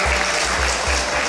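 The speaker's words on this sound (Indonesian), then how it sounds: "tepuk tangan dulu untuk orang Sunda" A crowd at an anniversary gathering of a Sundanese community association in Papua claps loudly and steadily, with a brief burst of applause close up.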